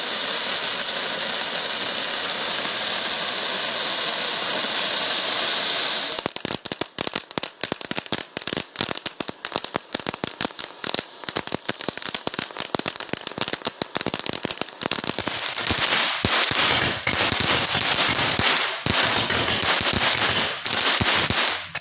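A Bahubali sword firecracker hisses steadily as it burns, then bursts into a long, loud run of rapid crackling pops and bangs that ends in dense sparkling crackle, heard alone without voices.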